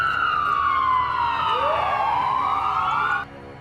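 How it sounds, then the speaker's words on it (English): A police siren wails close and loud, its pitch sweeping down and then back up before it cuts off abruptly, with road traffic faintly underneath. "Behind me, I heard the faint but welcome noise of police sirens."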